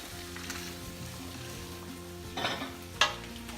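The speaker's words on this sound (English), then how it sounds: "Okay, in they go. Red and green pepper. Stir it around." Red and green peppers are stirred into a pot of chilli over a soft, steady sizzle. Two or three sharper scrapes of the spoon against the pan come near the end.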